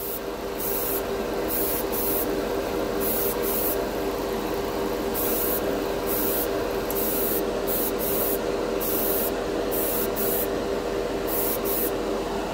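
Dspiae color shift metallic paint is sprayed from an airbrush onto a flat plastic butter knife in a steady, close, continuous hiss, with short pulses as the trigger is worked.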